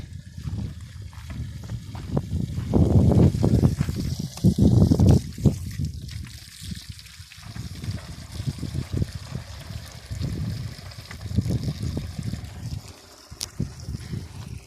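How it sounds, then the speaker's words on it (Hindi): Water from a mountain spring trickles and splashes into a container as it is filled outdoors, a close, uneven gurgle that swells and fades in bursts with no talking. "यहाँ पे आप देख सकते हैं ये जो पानी भी हम भर रहे हैं"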